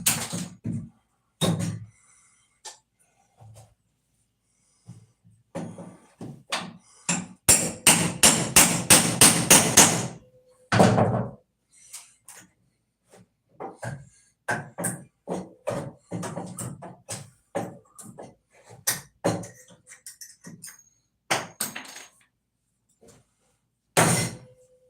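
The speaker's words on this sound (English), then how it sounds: "So I'm pulling out the nails, which I put in" Nails being pulled from a 2x4 with a hammer: irregular sharp knocks and thuds, with a rapid burst of repeated strikes in the middle and scattered single blows and creaks around it, close by.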